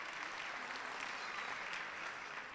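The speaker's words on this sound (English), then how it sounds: "he deserves a round of applause" Steady, moderately distant applause from the audience at a university graduation ceremony, a continuous wash of clapping with no voices.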